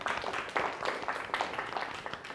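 A group of secondary-school students in an online biology class gives a faint, scattered round of clapping for the blue group.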